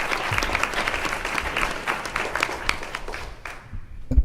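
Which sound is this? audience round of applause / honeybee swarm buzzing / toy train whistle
audience round of applause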